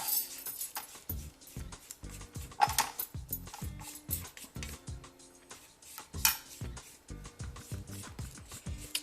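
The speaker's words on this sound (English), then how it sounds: "Now you just wanna scrape the sides again" Cinnamon bun dough being scraped from the sides of a bowl and mixed: close, fairly quiet rhythmic scraping and knocking strokes with a few sharper clinks, and no talking.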